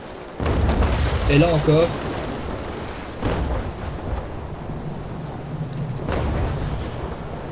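Broadside cannon fire from sailing warships in the naval battle game Naval Action: dull booms spaced a few seconds apart over a rumbling sea backdrop, with someone talking throughout.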